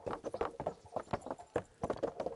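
Horse hooves clip-clop steadily in the medieval game Kingdom Come: Deliverance, a quiet, even rhythm of distinct hoof strikes as a ridden horse moves along, with no talk over it.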